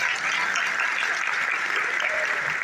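Audience applause for a small choir after a performance of Turkish music in the Hicaz makam, a steady dense wash of clapping that stays loud and even throughout, with no gaps.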